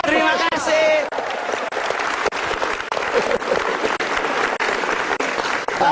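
Audience at a televised stand-up comedy show breaks into sustained applause, a dense steady wash of clapping with a brief voice heard over it at the start.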